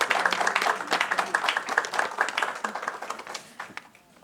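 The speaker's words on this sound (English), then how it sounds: "Give her a big round of applause" A round of applause from the audience for a speaker at a women's empowerment event, dense clapping that gradually thins and fades over about four seconds.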